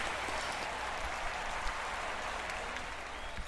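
A stadium crowd at Levi's Stadium during an opening-week football game applauds and cheers after a completed pass, a steady, dense wash of clapping and crowd noise without pauses.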